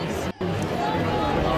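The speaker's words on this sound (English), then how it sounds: "So we are right in the crowd. I know it gets very loud" Loud crowd hubbub at a protest in Ottawa, a dense continuous wash of chatter and noise close around, with a brief dropout.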